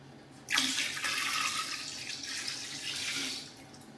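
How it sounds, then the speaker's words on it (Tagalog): Water gushes from a tap into a container being filled up to 50 liters to mix a vitamin B complex oral solution, a quiet steady splashing stream that starts suddenly and runs on before tapering off. "Tapos ito naman ay bubulyuman natin ng tubig"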